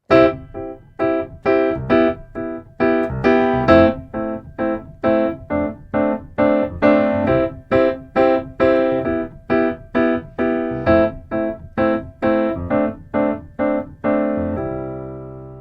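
A simple two-handed swing groove played on a keyboard, bouncy chords and bass in a steady shuffled rhythm, close and clear with no talking, ending on a sustained chord.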